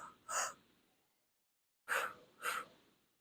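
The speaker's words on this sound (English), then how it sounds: "So an inhale as you twist, double exhale" Breathing during a Pilates mat twist: one sharp exhale, a pause, then a double exhale of two quick, close, breathy bursts.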